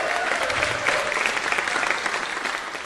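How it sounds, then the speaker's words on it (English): Applause from a concert audience at EnoFest at the Hayti Heritage Center, a dense steady wash of many hands clapping for the evening's performers, continuous throughout. "I want to give a round of applause to every single one of them that has performed tonight"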